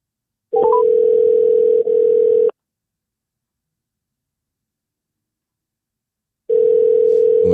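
A steady telephone dial tone sounds loud and close in two stretches, about two seconds each, separated by a long silence, while placing a call to a caller.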